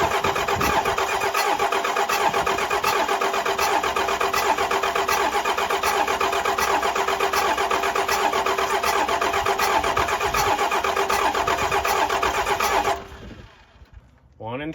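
A Cummins 12-valve 6BT diesel cranks over steadily and loudly for about thirteen seconds with a fast regular chugging beat while its injectors are bled, then cuts off abruptly into near quiet.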